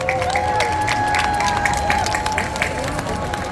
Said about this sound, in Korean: 다시 한번 큰 박수를 부탁드리겠습니다